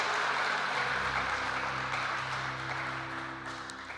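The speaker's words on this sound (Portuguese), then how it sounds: "Pode aplaudir" A church congregation applauds during a sermon, a steady wash of clapping that tapers gradually, with a low sustained musical tone underneath.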